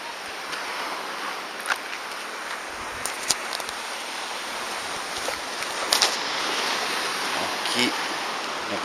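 Calm sea surf washes steadily onto a beach in Niigata, Japan, after a recent typhoon, a continuous broad rush with small splashes and no talk.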